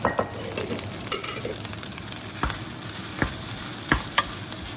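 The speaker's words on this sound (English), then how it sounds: "Put the rice in. Stir fry it up." Rice and bacon being stir-fried in a pan, a continuous sizzle broken by several sharp scrapes and knocks of the utensil against the pan, with no speech.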